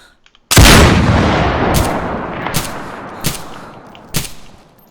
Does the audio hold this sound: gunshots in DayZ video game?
yes